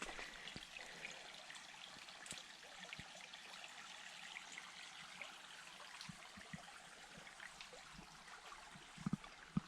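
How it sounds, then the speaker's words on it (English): A forest creek in the Adirondacks flowing into a lake: a faint, steady trickle and burble of water heard from some distance, with no voices. "There's a nice creek here flowing into the lake."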